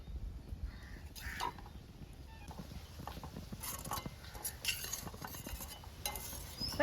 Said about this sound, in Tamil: இதை அப்படியே கலந்து விட்டுருவோம்.